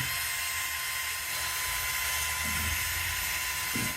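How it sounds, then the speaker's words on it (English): Electric drill fitted with a brush attachment scrubbing a metal surface on a 1994 Chevy K1500 during front driveshaft work, a steady high whine with gritty broadband scratching that holds throughout, close and continuous. "I'm just using a drill with a brush attachment to clean up this surface"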